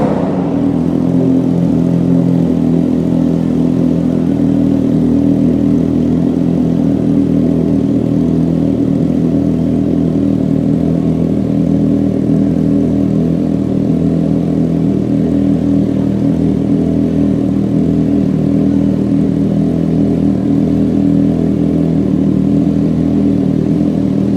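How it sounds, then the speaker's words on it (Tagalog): A Triumph Trident 660 motorcycle engine runs loud and close, holding a steady, dense mid-pitched rumble for the whole stretch with little change in pitch, no clear rev swells, and no talk over it. "we're gonna start the Triumph Trident 660. And let's hear how loud this bike is."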